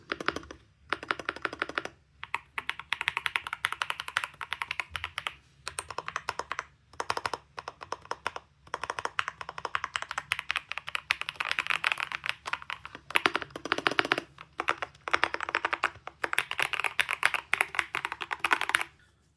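Rapid clicky typing on a Hator Skyfall 80 TKL mechanical keyboard comes in bursts separated by short pauses, close and crisp, with no talking.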